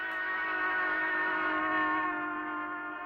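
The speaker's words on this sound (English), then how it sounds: "locomotive steam whistle sounds higher when it is approaching and lower when it's receding" A locomotive steam whistle blows one steady, sustained chord for about three seconds, bright and loud with a slight swell in the middle, and no voices are heard.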